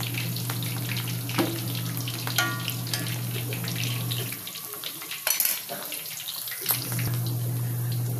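Pork cheek frying in a pan, giving a steady close sizzle with a constant hum beneath, briefly broken by a few seconds of clattering and handling before the sizzle resumes.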